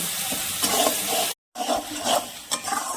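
Spice paste of ginger and garlic, with onion, is stirred and sautéed in a pan, giving a wet, scraping sizzle in repeated bursts with one brief silent gap partway through.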